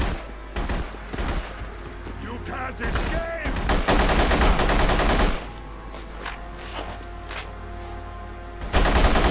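Rapid automatic gunfire and heavy shots in The Punisher video game, loud close bursts in clusters with a dense sustained volley midway, over a low rumbling background.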